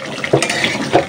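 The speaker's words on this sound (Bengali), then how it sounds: "কড়াই শুধু নাড়াচাড়া করতেছে।" A spoon stirs curry in a wok, with two quick scraping clinks of metal against the pan over a soft bubbling simmer.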